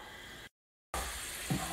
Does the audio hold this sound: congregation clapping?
no